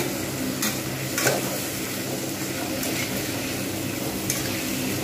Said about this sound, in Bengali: এবারে দেবো লঙ্কা গুঁড়ো, হলুদ গুঁড়ো